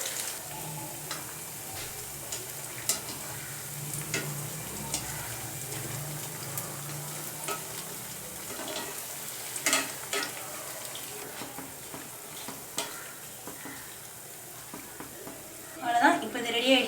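Sago vada dough balls fry in hot oil with a steady, soft sizzle and occasional stirring clinks and taps close by, ending in a louder burst of bubbling crackle.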